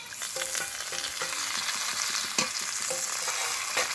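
A fried fish head goes into a pan of browned frying onions, giving a loud continuous close sizzle with a few scraping stir sounds and clinks.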